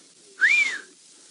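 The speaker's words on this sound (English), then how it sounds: "The Thompson's gazelles are going, whew, they've got like" One clear rising-then-falling whistle from Thompson's gazelles giving an alarm call in the Mara Triangle, lasting about half a second against a quiet open background.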